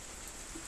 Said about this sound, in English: big storm is raging, lot of wind, some heavy rain,